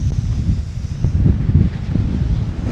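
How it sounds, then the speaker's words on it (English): Strong desert wind at Anza Borrego buffets the microphone in gusty, rumbling low bursts that rise and fall, with faint rustling underneath. "Oh, it's so windy out."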